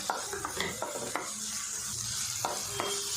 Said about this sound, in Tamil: கேப்சிகம் பச்சை பட்டாணி சேர்த்துட்டு நல்லா மிக்ஸ் பண்ணி வதக்கி விட்டுட்டேன்